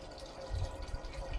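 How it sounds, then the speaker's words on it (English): Pure water being poured to top up a sawmill's water tank, a steady close trickling and splashing with a soft low gurgle, faint and continuous throughout. "Topping it up with pure water here"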